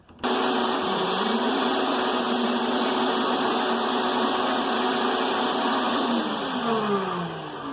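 A shop vac runs continuously, vacuuming fiberglass out of a memory foam mattress, a loud steady motor whine and airflow roar with slight pitch shifts as the nozzle moves.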